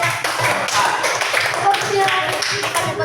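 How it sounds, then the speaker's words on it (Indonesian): Classroom applause for a student discussion group, close, uneven hand claps from a small group of students, loud and slightly ragged, with voices chattering underneath. "kasih tepuk tangan untuk kelompok"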